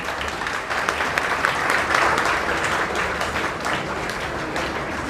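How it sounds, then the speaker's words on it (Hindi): Audience applause in a coaching lecture hall as a doctor arrives, with dense steady clapping from a roomful of students that holds loud and even, swelling a little midway, and no talk over it. "डॉक्टर साहब के लिए ताली बजाई जाए"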